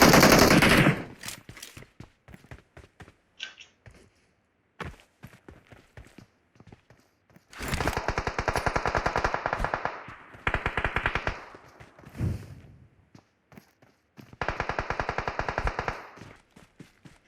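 PUBG Mobile gameplay with rapid bursts of automatic gunfire, loud sustained volleys of several seconds separated by single shots and near-silent gaps, plus brief muffled clatter.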